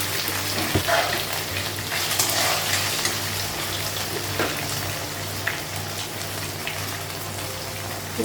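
Ginger paste frying in oil with drumstick pieces gives a loud, steady sizzle full of fine crackles and pops, over a low constant hum and with no talking.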